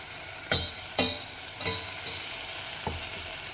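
Ginger garlic paste with turmeric and coriander powder cooking in a pan, giving a soft steady sizzle broken by a few sharp stirring knocks from a spoon, close by and with no talking.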